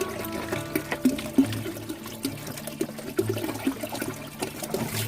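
Fermented cow dung liquid poured from bottles, three in all, making a gurgling, splashing pour with uneven glugs and trickles, close and alone, with no talking.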